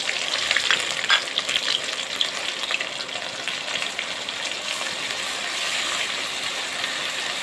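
Ground spice paste frying with browned onions in a pan for a fish, potato and tomato curry, a loud dense crackling sizzle throughout with a few early spatula scrapes and clicks, no speech.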